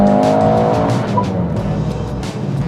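A Mercedes-AMG SUV with a four-cylinder engine revs hard under acceleration, a loud, steady raspy drone with rising tones from inside the car, and brief tire chirps.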